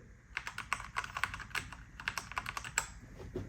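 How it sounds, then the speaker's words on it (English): Keys clack in quick, irregular bursts as shortcut keys are pressed on a Macally MKey keyboard, an Apple A1048-style clone, with close, crisp clicks and short gaps and no talk. "Let's see if the shortcut keys work."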